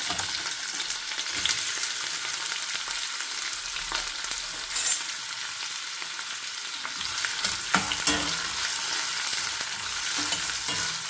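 Sliced onions frying in hot oil for a quail egg curry, a steady bright sizzle throughout with occasional stirring clicks, close and continuous with no talking.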